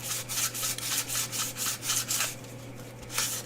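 Hand-sanding a cured resin painting at close range gives a rhythmic back-and-forth scratchy rubbing, about a dozen quick strokes with a short pause near the end, and nobody speaks.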